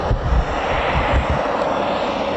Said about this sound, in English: Okay, so the Typhoons, I believe they're ready for departure.